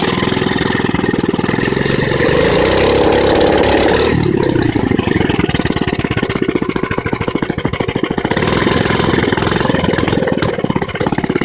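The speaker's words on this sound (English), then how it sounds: "can hear it backfire a little bit." A mini bike engine runs loud and close on full choke, revving and sputtering with a rapid pulsing beat and occasional backfire pops, its pitch dropping and settling into a rough, throbbing idle.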